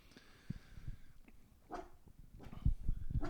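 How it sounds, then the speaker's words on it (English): A dog barks a few times at a passerby indoors, the short sharp barks at moderate distance over low room noise. "Quit the barking."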